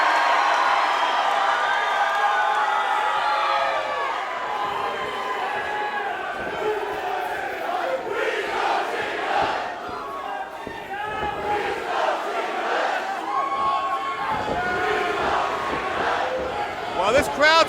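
Wrestling crowd at a Juggalo Championship Wrestling event roaring and cheering continuously, loud and dense throughout, with shouts and whoops rising near the end.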